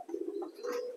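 Pigeons coo steadily in a pigeon loft, a low warbling drone running through the whole moment with overlapping calls swelling near the end, close and fairly quiet.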